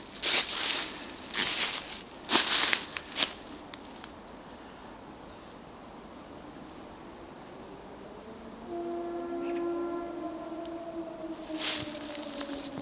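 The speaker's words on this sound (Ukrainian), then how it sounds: "повітряна тривога." After some nearby rustling and handling noise, a distant air raid siren begins to wail, rising in pitch faintly in the background.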